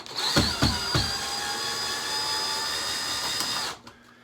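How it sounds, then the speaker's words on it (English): A power drill drives screws, whirring steadily at high speed for a few seconds with a few brief clicks at the start, then stops abruptly, during a bathroom light fixture replacement. "I got the power screw drill"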